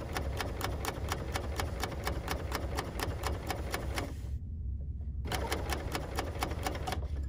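A sewing machine stitches a crazy quilt in a rapid, even run of mechanical clicks, pauses for about a second, then starts again at the same pace. The sound is close and steady, and no one speaks.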